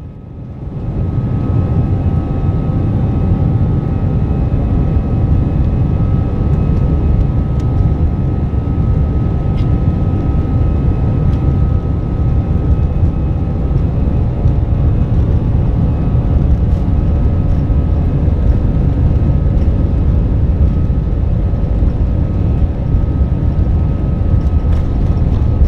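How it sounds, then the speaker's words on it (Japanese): A StarFlyer airliner speeds down the Haneda runway for takeoff, its jet engines producing a loud, steady roar that fills the cabin without a break, heard from inside with no voices. "発進加速で背中がシートに押し付けられる瞬間です。"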